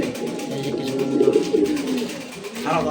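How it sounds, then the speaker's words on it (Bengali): Pigeons in a pigeon loft cooing, soft low burbling calls repeating close by, while someone talks over them. "এই হলো আরও কিছু কবুতর।"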